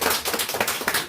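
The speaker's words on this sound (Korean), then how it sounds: "여러분 박수 크게 한번 부탁드립니다." An audience at a redevelopment forum presentation claps briefly, a quick burst of many hands beating in a rapid, even patter without voices.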